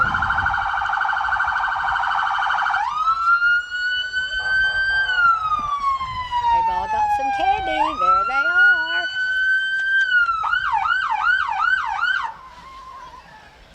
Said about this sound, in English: I always get nervous when I hear those sirens coming down.